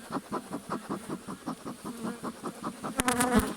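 Bees buzz faintly in pulsing waves close by amid smoke, followed by a few sharp clicks and scraping sounds near the end.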